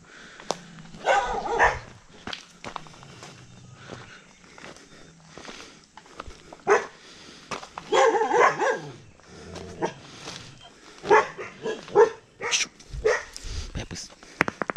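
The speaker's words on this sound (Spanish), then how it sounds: "Aquí no cuesta mucho asustar a estos perros." Dogs bark intermittently along a stony rural path in the hills near Ilobasco, El Salvador, with footsteps crunching on loose rock and someone talking over the barking.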